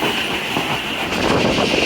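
Khyber Mail passenger train running on rails at about 76 km/h near Hasan Abdal, heard as a loud, steady rumble with a rolling wheel clatter throughout.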